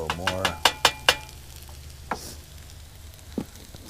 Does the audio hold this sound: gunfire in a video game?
no